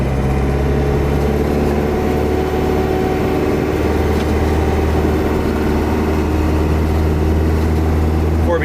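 Cummins 4BT four-cylinder diesel swapped into a 1997 LX 450 Land Cruiser, running as a steady low droning rumble with a constant engine hum throughout, close and fairly loud, alone without talk.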